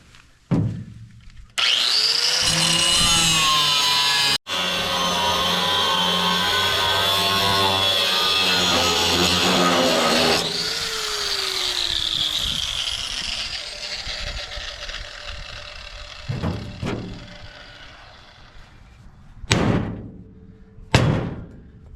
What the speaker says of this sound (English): Now I can get to these welds, get them ground, hopefully get this off.